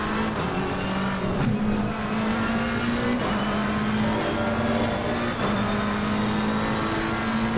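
McLaren 720S race car in Assetto Corsa Competizione at Imola, a loud steady engine drone held at high revs with brief dips and rises through gear changes, plus faint tire noise, continuous and close with no voice.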